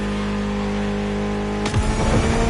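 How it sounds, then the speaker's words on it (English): Mitsubishi inline four-cylinder car engine of about 280 horsepower in the racing game The Crew Motorfest, a steady idle drone that suddenly jumps into a loud, rising rev near the end. "Mitsubishi gave us a nice inline four-cylinder with already 280 horsepower that are gonna turn up a bit."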